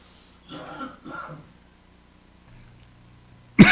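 A single sharp cough from a person recovering from the flu, loud and close, bursting out at the very end after a stretch of quiet indistinct talk.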